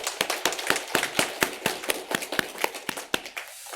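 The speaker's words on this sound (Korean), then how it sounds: "우리 하나님께 감사와 영광의 박수를 올려드리겠습니다" A church congregation applauding at a Sunday service, about fifteen sharp, fairly even claps in a brisk steady rhythm, close and clear with no voices.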